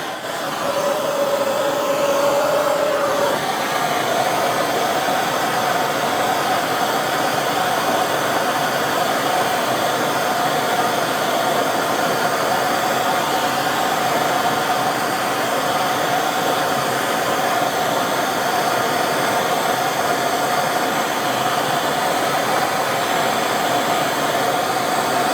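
A heat gun blows a steady, loud, continuous whoosh up close while warming a part stuck with super glue in a workshop, with a brief higher tone near the start.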